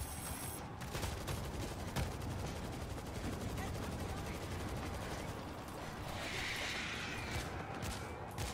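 Turret gunfire in the World War Z video game during a horde match: dense, continuous rapid-fire bursts that run for the whole stretch at a steady loud level, with occasional mechanical clatter.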